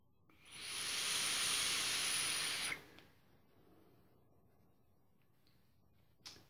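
A Grayscale Chocolate Candy & Caramel Vanilla e-liquid vape is drawn on with a steady, bright hiss lasting about two seconds, then stopping into quiet room tone with a faint click near the end; no talk.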